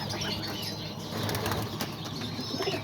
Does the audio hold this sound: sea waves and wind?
no